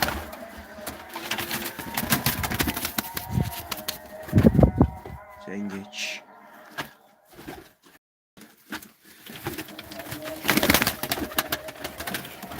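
Pigeons coo and flutter in a loft of Turkish roller and tumbler breeds during a live broadcast, with scattered wing flaps and bird calls at moderate distance while someone talks intermittently.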